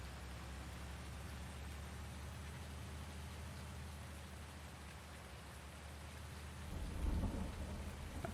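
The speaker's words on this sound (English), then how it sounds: "Thunder." Steady rain hisses across the whole span in the Farming Simulator 19 game on the Ravenport map, and a low thunder rumble swells near the end.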